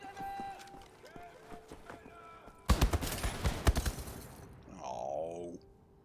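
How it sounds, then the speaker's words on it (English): Gunfire aimed at the player in Wolfenstein: The New Order, a dense burst of rapid shots erupting midway through the clip after quieter game sounds, then tapering into lighter effects. "Stop shooting me! Bullets hurt!"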